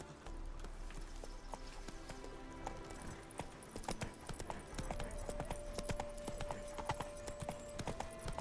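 Horse hooves clip-clop in a steady trotting rhythm while riding in The Witcher 3, close and continuous over ambient game sound, with a brief whinny-like tone and no talk.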